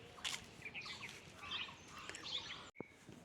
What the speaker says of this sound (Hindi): चिड़िया चहचहाती